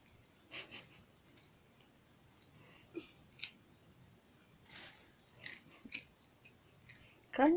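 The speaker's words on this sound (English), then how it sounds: "Eating carrots." A rabbit chewing carrot pieces close by, producing quiet, irregular crunchy clicks and snips spread across a hushed background.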